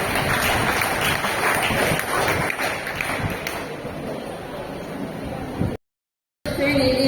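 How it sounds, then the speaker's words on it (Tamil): Audience applause welcomes Mrs. Vijaya to speak at a Youth Christmas pattimandram debate, a steady, dense wash of clapping that fills the hall for several seconds before a brief gap. "அவங்கள கைத்தட்டி நம்ம வரவேற்கிறோம்."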